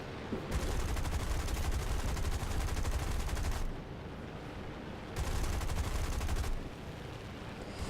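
Rapid aircraft machine-gun bursts in War Thunder, firing from an F2A at an SBD-2, come in two long loud fusillades of about three and one and a half seconds, separated by a lower steady engine drone.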